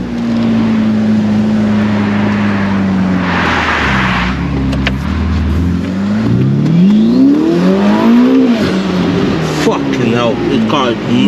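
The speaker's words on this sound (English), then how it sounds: "Right now, engine has started." A car engine idles and then revs up and down, its pitch rising and falling loudly, with people talking over it.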